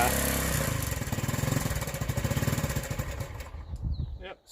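A 1979 Honda CT90 motorcycle engine idles on choke with a steady, rapid low putter close by, then stumbles and dies out near the end.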